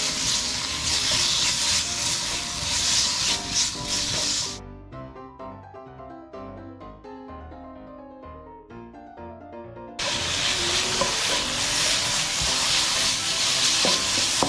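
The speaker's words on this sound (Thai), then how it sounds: "รวนแค่พอสุกพอนะครับ" Pork belly sizzles loudly in a hot pan with scraping stirs, the crackle dropping away for a few seconds mid-clip before returning at full strength.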